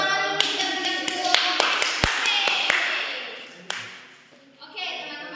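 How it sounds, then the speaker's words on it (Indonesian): A classroom of students claps their hands in sharp, uneven bursts during a lesson, the claps fading out near the end before ringing, tonal background sounds return. "Tepuk tangan dulu kita berikan dulu"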